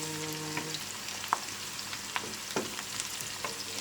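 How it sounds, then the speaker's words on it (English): Chopped onion frying in a pan, a soft even sizzle with a few small pops and clicks, fairly quiet and close, with no one speaking. "I like to chuck the onion in first and get it cooking"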